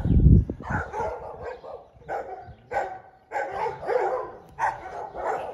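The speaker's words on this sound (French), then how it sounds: "c'est les grands chiens du voisin du bas. Ils sont pas méchants, hein, mais ils sont bruyants" The downstairs neighbour's big dogs bark repeatedly in irregular bursts, some distance off, over about five seconds, with whimpers mixed in and no talking.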